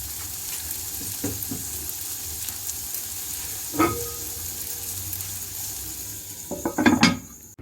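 Oil sizzling on malai seekh kebabs under a lid for smoky flavour: a soft, steady hiss with a few sharp crackles and pops near the end.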